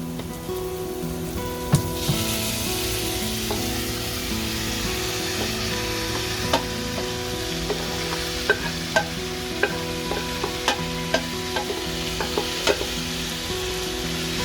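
Cooked jackfruit stirred into onions frying with chili powder in a pan, with a steady close sizzle and occasional sharp scraping and clinking strokes of a spoon against the pan.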